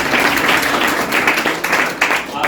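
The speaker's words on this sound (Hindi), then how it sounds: "गुड जॉब, एक बार ताली बजा लीजिए।" A seminar audience of teachers at a home tutor training event claps together, a dense, steady burst of applause that fills the room and keeps going with no voices on top.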